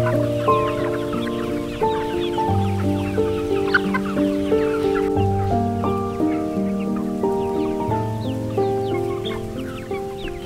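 Chickens cluck steadily in the brooding house of a poultry farm where parent stock is raised, a dense overlapping chorus of close and distant birds with occasional louder calls.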